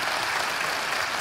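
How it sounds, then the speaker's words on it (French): Steady audience clapping at a live comedy show, a short, even burst of applause filling the hall with no voices over it. "Applaudissez monsieur."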